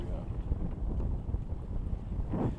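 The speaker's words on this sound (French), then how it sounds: "Bah voilà, du vent de sud-ouest." Steady low southwest wind rushing over the microphone, with a continuous rumbling roar and a brief gust swelling near the end, no clear talk.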